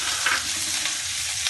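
Onion with ginger garlic paste frying in a pan, a steady close sizzle with soft stirring scrapes throughout and no talking.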